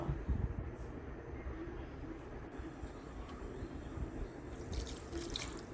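Tamarind water poured into a pan of onion theeyal curry in a home kitchen, a steady watery splashing and trickling rush that runs throughout the clip at moderate loudness, with no one speaking.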